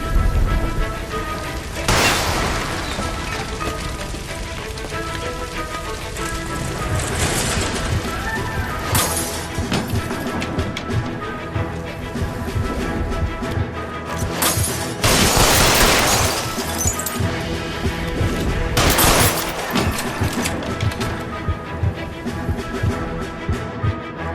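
A shot gas line bursting into an explosion in the game L.A. Noire, loud crashing blasts and shattering debris over a dense, continuous roar of fire and game score, with several heavy peaks.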